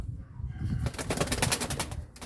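A grizzle pigeon with clipped wings flaps in a short burst of rapid, close wingbeats against a steady noisy background.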